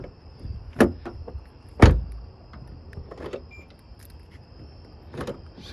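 Power door locks on a BMW X5 clack shut in a few sharp, brief mechanical thunks, separated by quiet gaps inside a faint, still car interior.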